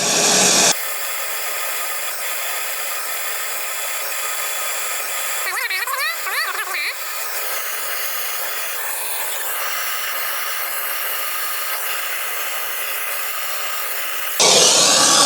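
A gas torch preheats copper pipe for brazing, a loud steady roaring hiss that holds constant for most of the clip, with a brief rattling disturbance partway through.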